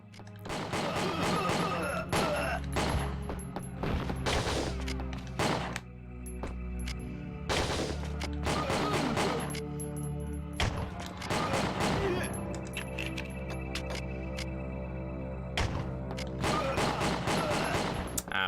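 Gunfire in the video game Winback: Covert Operations, aimed at a sensor during a speedrun, loud sharp shots in bursts and rapid volleys with brief gaps, alongside game background sound.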